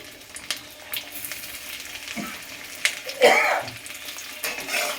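Ginger frying in ghee with bits of onion nearby, a soft steady sizzle broken by a few sharper crackles and spoon-stirring scrapes close at hand, no voices.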